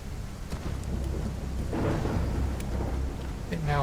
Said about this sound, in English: Whoa, cool lightning.